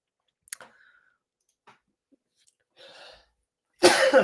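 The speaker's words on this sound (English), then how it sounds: "Big sneeze." A single loud, sharp sneeze bursts out near the end, preceded by a few faint clicks and a soft rustle in an otherwise quiet room.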